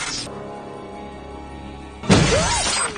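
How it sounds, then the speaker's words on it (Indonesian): A drinking glass suddenly cracks and shatters after a low, quiet hum, a single loud burst of breaking glass that rings on briefly as the pieces settle. "gelas tiba-tiba retak dan menyebabkan amernya uncrat-ancret di lantai"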